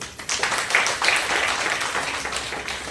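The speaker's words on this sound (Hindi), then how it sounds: "एक बार ताली बजाइए उनके लिए।" Indoor audience claps for a woman presenter at a business growth training session, a dense burst of applause that rises quickly and tapers off over a few seconds.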